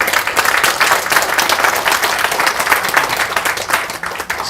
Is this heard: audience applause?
yes